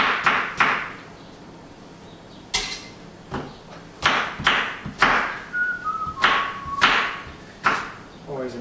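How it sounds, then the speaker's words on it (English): A person whistles a few short melodic notes between loud, irregular knocks of chopping on a board. "important to whistle while you work"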